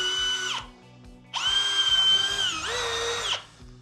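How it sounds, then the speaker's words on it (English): Power drill boring holes through the corners of a builder's bulkhead, in two loud whining bursts with a short pause between, the pitch dipping as the bit bites into the material. "you're just going to use your drill blade to drill through"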